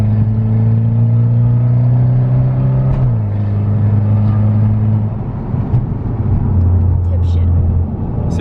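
Mitsubishi Evo 10 with a 4B11 engine and straight-pipe exhaust, running with an open dump downpipe and test pipe and a check-engine light on; a loud, close, droning exhaust note shifts pitch as the revs change, with people talking over it.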